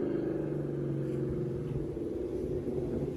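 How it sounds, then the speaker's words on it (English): A loud car engine with misfire issues idles in a steady low rumble, its uneven pulsing throb continuous and close throughout with no talk. "I ain't realize this how loud my car was."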